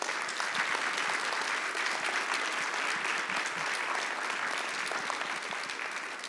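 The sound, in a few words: audience applause at a conference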